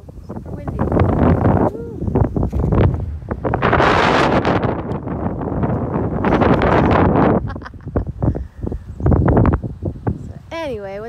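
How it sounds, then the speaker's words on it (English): Strong gusts of wind roar and buffet the microphone in loud, rushing waves, with a person talking briefly in between. "Whoa, super windy."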